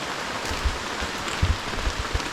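Rain falling on a banana farm, a steady close hiss of drops with a few soft heavier thumps, no voices.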